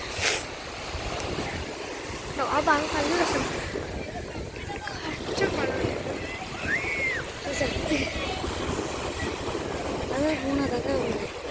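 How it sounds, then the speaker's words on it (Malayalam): Wind buffets the microphone in a steady rush on a beach, with faint surf behind, while a person talks over it throughout. "നല്ല കാറ്റുണ്ട് കേട്ടോ ഇവിടെ നല്ല കാറ്റുണ്ട്"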